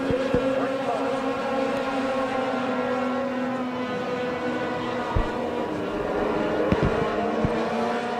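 Sport trucks race on an oval track in Wisconsin, a continuous loud roar of several engines with shifting pitch as they pass, with occasional sharp clicks and bumps throughout.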